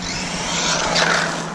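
A small HBX Rampage RC monster truck with a short wheelbase brakes hard and spins round. A steady, close whirring and scrubbing noise runs through the whole short stretch, with no voices.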